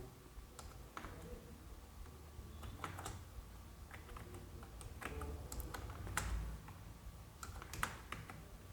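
Keys clatter steadily on a computer keyboard as a GST number is typed into Tally Prime accounting software, quiet uneven clicks running throughout with no talking.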